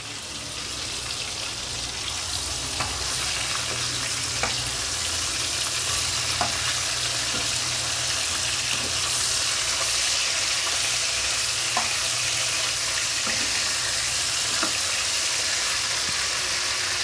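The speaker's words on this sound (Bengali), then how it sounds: "মাছটা ভাজা হয়ে গেছে" Fish frying in a pan gives a steady, dense sizzle with occasional soft pops and stirring clicks, close and even throughout with no talking.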